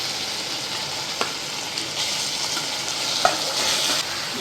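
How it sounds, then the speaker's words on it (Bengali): Chopped tomato frying with ginger-garlic paste in a pan as it is stirred, a steady close sizzle with a few scraping spoon clicks. "এখন একটু টমেটো কুচি দিয়ে দেবো, আবার একটু নাড়াবো"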